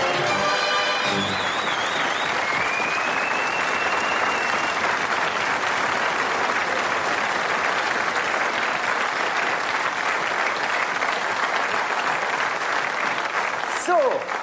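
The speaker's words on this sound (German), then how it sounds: "Euer Applaus." Steady, dense applause from a German TV game-show studio audience in 1987, loud and sustained for about fourteen seconds, with a brief swell of cheering near the end.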